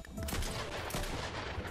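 Rapid gunfire in Fortnite, a quick run of sharp overlapping shots packed into under two seconds, loud and close.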